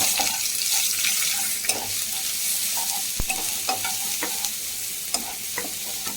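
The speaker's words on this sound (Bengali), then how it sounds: "তারপরে এখন রসুন বাটা দিলাম, ওটিতে একটু নাড়িয়া তাড়িয়া লইলাম।" Garlic paste stirred and fried in a pan over a continuous hiss of sizzling, with scattered scraping taps of a spatula and one sharp knock midway, close up without speech.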